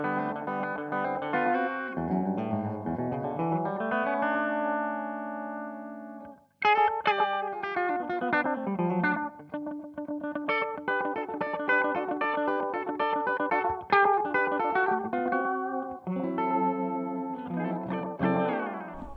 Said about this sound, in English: one of the beauties of using an analog delay is it gives it that vintage